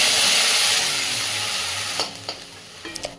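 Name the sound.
spice paste frying in a kadai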